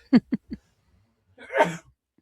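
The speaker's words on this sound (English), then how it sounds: "had to get that sneeze out." A single loud sneeze bursts out close to the microphone after three short, sharp sniffing intakes, followed by quiet.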